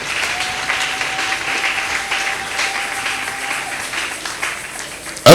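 A church congregation applauds to acclaim the Lord in steady, full clapping that holds for about five seconds, with a louder burst right at the end.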